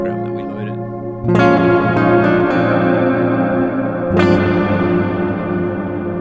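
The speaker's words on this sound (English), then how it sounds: "So that's that reverb program that we loaded." An electric guitar played through a reverb program loaded on a Spin FV-1 effects chip, with struck chords ringing out into long, washy tails, loud and alone.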